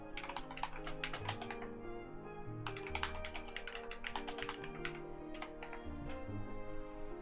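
Typing on a computer keyboard, clattering in bursts of quick key presses separated by short pauses, close and clear with no talking.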